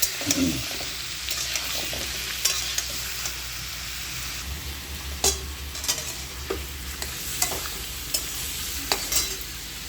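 Chicken pieces sizzle steadily in a pan while being stirred for a stew, with sharp scraping clicks of the spoon against the pan breaking through the constant frying hiss at close range.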